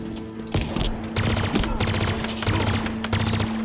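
In Halo Infinite, an automatic weapon fires in quick three-round bursts, loud and close, over a steady in-game hum with scattered impacts.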